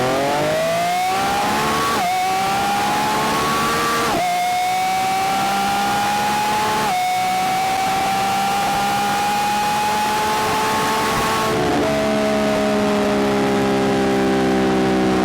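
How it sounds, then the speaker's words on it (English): A Lamborghini Revuelto V12 with its stock exhaust revs hard, climbing in pitch through several quick gear shifts in a sustained, loud, close engine howl. "And that sound is what you expect from a Lamborghini, especially a V12."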